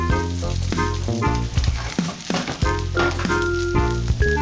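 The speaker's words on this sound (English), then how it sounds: "For the sauce, add mirin and shoyu and simmer it for a while." Mirin and shoyu sauce sizzles in a hot pan for beef hibachi, a steady frying hiss running throughout with music playing over it.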